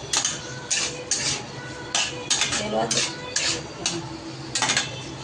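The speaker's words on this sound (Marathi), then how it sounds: "याला चांगलं हलवायचं, असं चांगलं फ्राय करून घ्यायचं" Spoon stirring bitter gourd frying in a pan, a series of sharp metallic scrapes and clinks in irregular clusters, close and fairly loud over a soft background sizzle.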